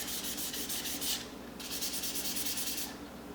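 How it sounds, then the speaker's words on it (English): Sandpaper is rubbed along a knife blade being etched in ferric chloride, giving soft, close, steady scratchy strokes in a back-and-forth rhythm with a short pause between passes. "I'm just going to keep on putting it in the ferric chloride and rubbing it with the sandpaper."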